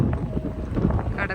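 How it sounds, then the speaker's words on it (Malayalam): Strong sea wind at a beach at dusk buffets the microphone in a brief, steady roar with gusty swells, and a faint voice can be heard underneath. "നല്ല കാറ്റാണ്."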